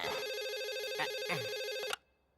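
A telephone rings loudly and continuously with a steady electronic trill, cutting off abruptly near the end, during a speakerphone call in a Hindi-dubbed film scene.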